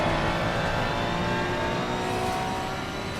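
A Ferrari race car's engine roaring steadily at Spa-Francorchamps in a racing video game, a loud, sustained high-pitched drone holding at speed with no talk.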